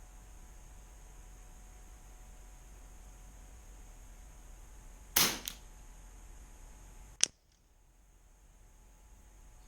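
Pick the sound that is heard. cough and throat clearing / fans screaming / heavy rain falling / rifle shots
rifle shots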